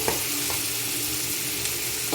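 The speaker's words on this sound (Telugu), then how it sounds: "పచ్చిమిర్చి కూడా వేసేసుకోండి ఇవి కొంచెం మగ్గనివ్వాలి బాగా ఫ్రై అయిపోయినాయండి" Green chillies fry in a pan for a fish curry masala, a steady close sizzle that runs throughout, with a few light scrapes of stirring.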